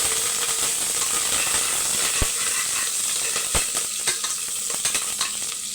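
Green chilies and curry leaves frying in hot oil, a steady close sizzle with scattered crackles and a couple of sharp pops, no talking.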